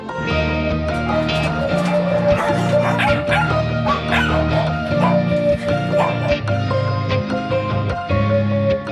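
Many dogs bark and yip at once in a noisy, echoing chorus at an animal shelter housing over 400 dogs, a constant overlapping din with some whimpering mixed in.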